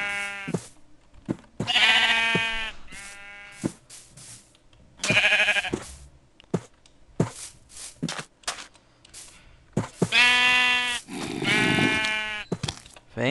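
Sheep bleating in the video game Minecraft: repeated short, wavering baas spaced through the scene, mixed with the scuffing and shuffling of game movement.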